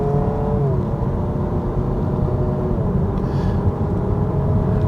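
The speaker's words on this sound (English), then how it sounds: "It does have that downshifting experience to it." A 2026 Honda Prelude engine hums steadily while simulated downshifts shift its tone, revs gliding from one pitch to another in a continuous close drone.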